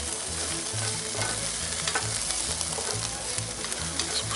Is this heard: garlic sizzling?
yes